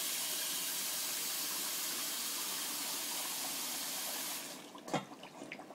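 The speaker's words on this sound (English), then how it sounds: "Now, we're going to take this and we're going to put cold water." Dry ice in cold water bubbles and hisses as a continuous, dense, fizzing rush that holds steady and fairly loud, then quickly thins out near the end, leaving a few faint gurgles and a soft knock.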